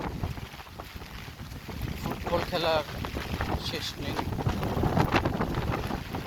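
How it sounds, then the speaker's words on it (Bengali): Strong wind gusts during rain outdoors, a loud and constant roaring buffet against the microphone, swelling toward the end. A person talks over it. "প্রচণ্ড রকম বাতাস"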